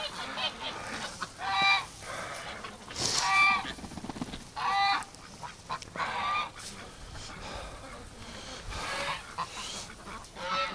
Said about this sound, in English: silly ducks